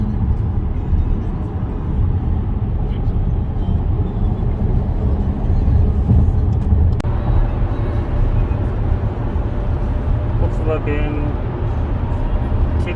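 A 2019 Volkswagen Tiguan on the move gives a constant, loud low road rumble and engine drone heard from inside the cabin, steady throughout with a few faint clicks.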